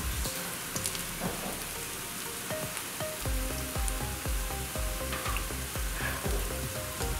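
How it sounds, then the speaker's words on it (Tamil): Breaded taro (colocasia) cutlets shallow-fry in oil with a steady, close hiss and sizzle that runs unbroken, with faint tonal sounds in the background. "இப்போ எண்ணெயில் இந்த கட்லெட்டை ஒன்று ஒன்றா வச்சிடலாங்க."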